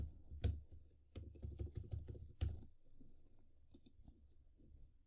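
Keys tapped on a computer keyboard while entering a database record, a quick irregular run of close clicks that thins out into a few scattered taps.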